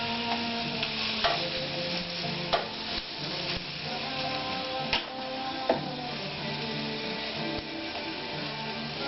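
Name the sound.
bun toasting in pan with sausage and peppers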